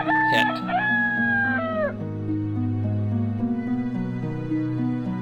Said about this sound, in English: they have a rooster when dawn hits